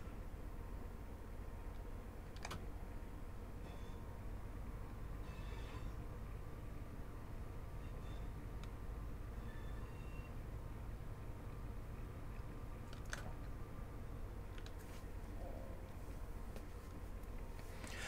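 A Class 158 diesel unit runs along the Midland Main Line in Train Sim World 3, with a steady, low, even rumble throughout and a few faint clicks and clunks over the top.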